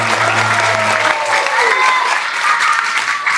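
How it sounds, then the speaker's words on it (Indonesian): An audience breaks into loud, sustained applause at a motivational talk, dense clapping that fills the room throughout, with a voice briefly heard beneath it at the start. "Kasih tepuk tangan."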